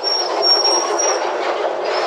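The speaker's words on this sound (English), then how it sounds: "Ha! The big diesel." A big diesel train passes close by with a loud, steady rumble and a sustained high-pitched wheel squeal running throughout.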